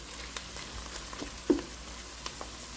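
Onions fry in a pan for Pakistani-style fish salan, a low, soft sizzle with a few faint pops and one slightly louder stir click midway.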